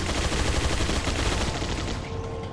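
Rapid bursts of gunfire in Resident Evil 4 Separated Ways, a dense, loud stream of shots filling the whole stretch before tailing off slightly at the end.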